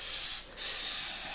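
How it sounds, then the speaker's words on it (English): Aerosol spray hissing into an engine's open air intake with the air filter removed, two close sustained bursts separated by a brief pause. "spray some of that in there, and then it dries up in like 2 seconds"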